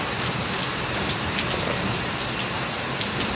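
Heavy rain pours steadily, a loud, dense hiss of drops hitting surfaces close by, continuous with no voices.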